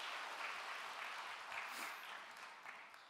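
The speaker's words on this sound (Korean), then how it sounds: "감사의 박수 올려드리겠습니다." Church congregation applauds during a dedication and ordination thanksgiving service, a faint, distant wash of steady clapping lasting a few seconds and tapering off.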